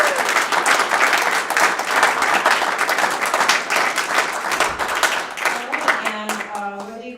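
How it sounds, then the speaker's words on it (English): A school-district audience of families and guests applauds at a student-of-the-month presentation, with dense, lively clapping that carries on for several seconds and then thins out toward the end. "Round of applause for our"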